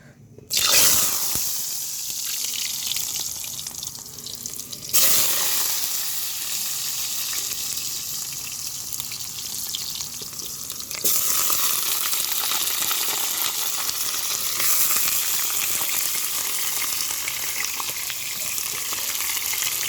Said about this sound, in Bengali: আলুটাকে ভেজে নেওয়ার জন্য আমি কড়াইতে সাদা তেল দিয়েছি আলুটাকে ভেজে নেবো